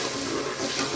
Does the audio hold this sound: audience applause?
no